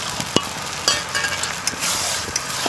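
Spoon stirring vegetarian taro leaf curry in a pan, with a soft sizzle, scraping and a few light clinks against the pan, close up and with no voices.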